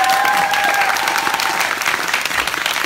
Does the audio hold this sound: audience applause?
yes